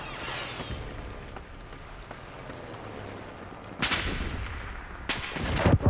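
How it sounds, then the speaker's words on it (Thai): Video game gunfire: scattered sharp cracks, then two loud, rapid bursts of machine gun fire near the end. "โดนปืนกลสาดเข้ามา"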